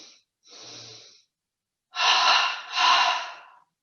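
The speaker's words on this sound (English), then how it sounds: "And then we're going to shift the breath from the belly to the chest." A yoga double breath inhaled first into the belly, then drawn into the chest: a short soft intake, a pause, then two louder airy breaths in quick succession, close up and with no talking.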